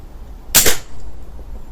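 A Snowpeak AP 900 air pistol fires once at a target, a single sharp close crack with a quick fading tail, followed by quiet room noise.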